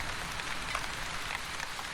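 Rain in The Wandering Village video game patters as an even, low-level hiss with scattered small drop ticks, faint and steady throughout.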